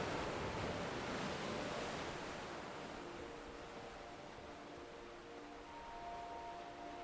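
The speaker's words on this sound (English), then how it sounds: "The rhythm of the waves continues, constant, soothing, eternal," Ocean waves on a moonlit shore, a soft, continuous wash of surf that is slightly stronger at first and then eases into a faint, steady hiss.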